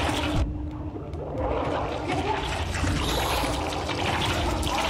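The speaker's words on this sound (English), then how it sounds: "Oh, there's water underneath." Water in the Hollow Knight video game, a continuous trickling and splashing wash that is dense and fairly loud, with no voices over it.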